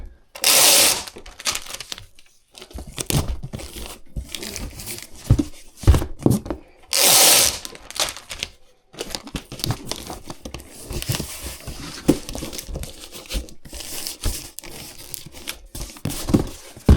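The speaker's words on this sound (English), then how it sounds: "And I'm going to use this thicker 3-inch tape to do this way." Thick 3-inch packing tape is pulled and pressed over a shipping box in several loud, ripping bursts, mixed with crinkling and handling noise and short pauses between strips.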